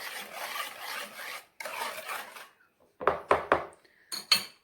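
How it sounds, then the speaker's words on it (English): Vanilla chocolate chip muffin batter mixed in a bowl: two long rasping scrapes of a utensil through the thick mixture, then a few sharp clinks against the bowl's side, close and clear with no talking. "I have mixed all the ingredients well together and I just want to show you how the mixture is supposed to look at the end"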